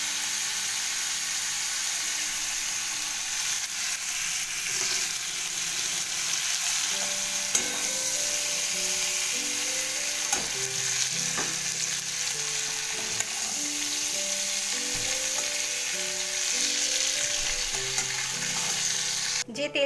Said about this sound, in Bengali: চিংড়ি মাছগুলো কিন্তু খুব বেশি ভাজতে নেই, তো হালকা ভেজেই আমি চিংড়ি মাছগুলো এক এক করে তুলে নেব